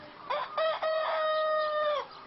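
A rooster on an organic poultry farm crows once, close and clear, a rising then long sustained cry lasting about two seconds, alone without talk.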